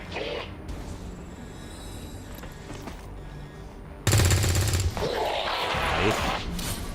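Overwatch reaction fire in XCOM 2 erupts as a loud rapid burst of gunshots, cutting in sharply over quieter game ambience and lingering with a rattling, echoing tail.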